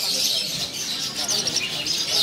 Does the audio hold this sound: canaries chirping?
yes